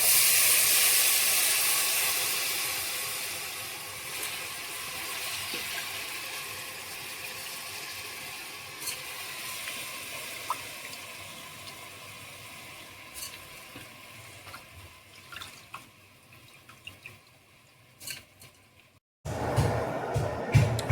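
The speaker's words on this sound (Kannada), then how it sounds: "ನೀರು ಕುದಿಯೋಕೆ ಸ್ಟಾರ್ಟ್ ಆಗಿದೆ." Steady broadband hiss of water with basmati rice starting to boil in a pot, fading slightly over time, with a few faint clinks and a louder rumble near the end.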